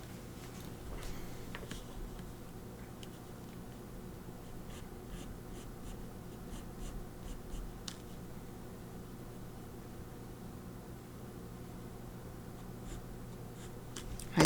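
Pencil strokes scratch steadily across paper, close up and quiet, in short repeated bursts with a few sharper ticks, over a constant low room hum.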